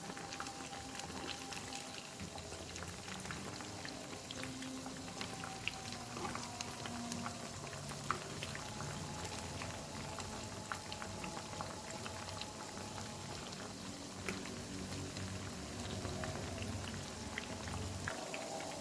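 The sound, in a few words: hash browns frying in oil on medium heat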